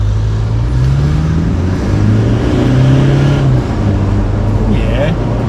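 A Toyota Prado 150 Series accelerates on a road test drive heard from inside the cabin, its engine droning and rising in pitch over steady road noise.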